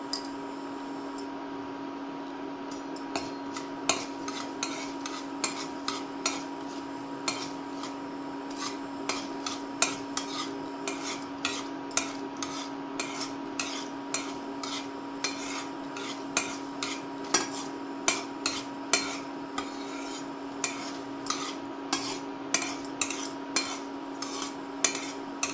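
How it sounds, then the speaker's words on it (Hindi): Fenugreek seeds frying in a pan while being stirred, giving repeated light scraping and clinking ticks over a steady hum, close and moderately loud with no talking. "एक चम्मच मेथी सीड डालेंगे और इसे अच्छी तरह से फ्राई कर लेंगे।"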